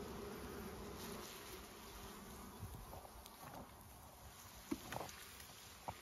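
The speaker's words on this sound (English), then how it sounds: "Another big bee there." Honeybees buzz around a hive frame on a Canadian beekeeper's hive, a steady low drone close by with a few brief louder passes and soft handling noises, no speech.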